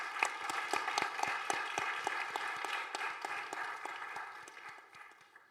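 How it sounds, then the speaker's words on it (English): Applause from an audience for speakers at a conference session, a steady round of scattered hand claps with some distinct individual claps, fading toward the end. "So please come with me and give them a big round of applause."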